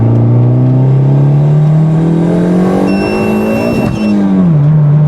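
A turbocharged car with a full exhaust and chambered muffler revs hard and close: a loud, throaty drone that climbs in pitch, peaks with a sharp crackle, then drops back to a rumbling idle.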